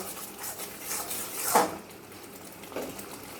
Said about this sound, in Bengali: আবারও কিছুক্ষণ লো ফ্লেমে রেখে মশলাটা ভেজে নিতে হবে